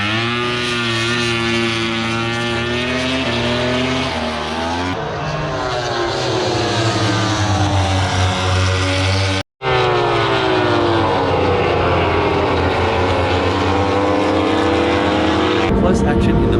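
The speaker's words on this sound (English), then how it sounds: "Moto2 bikes exiting the last corner." Moto2 racing motorcycles exit the last corner of a MotoGP circuit, loud high-revving engines sweeping past in overlapping waves with pitch falling as they go by, one short cut to a second pass.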